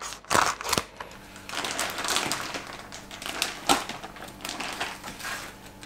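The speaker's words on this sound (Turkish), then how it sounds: "Hemen şöyle paketi açıyorum." A sous vide vacuum bag holding cooked osso buco is torn and pulled open, giving a few sharp crinkling plastic rips followed by continuous close rustling and crackling.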